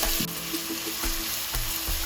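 Chopped onions with cumin seeds and spices frying in a pan, a continuous close sizzle with a few stirring scrapes and clicks mixed in, no voices.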